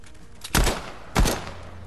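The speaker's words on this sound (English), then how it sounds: "Minigun." Two short, loud bursts of minigun fire in Fortnite, about half a second apart, each cutting off sharply with no talk over them.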